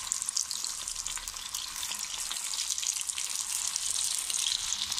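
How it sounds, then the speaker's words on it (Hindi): Moong dal nuggets fry in hot oil with a dense, continuous bubbling sizzle close by, holding steady and growing slightly louder, with no talk. "ऑयल अब हमारा गर्म हो गया है, अब इसमें हम नगेट्स छोड़ देंगे।"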